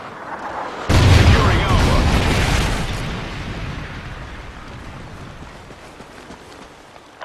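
A Trinity rocket strike detonates in a first-person shooter match, a sudden loud deep boom followed by a long rumbling decay that fades over several seconds, with a voice speaking faintly underneath.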